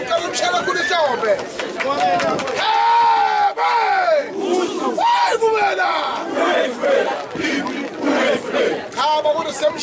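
A wedding crowd shouting and cheering together, loud and close, with excited voices, whoops and babble rising and falling throughout.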